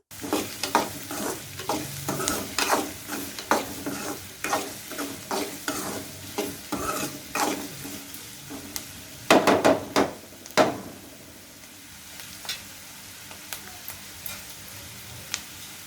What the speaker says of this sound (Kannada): ಈರುಳ್ಳಿನ ಹಾಕಿ ಚೆನ್ನಾಗಿ ಬ್ರೌನ್ ಕಲರ್ ಬರೋವರೆಗೂ ಫ್ರೈ ಮಾಡಬೇಕು.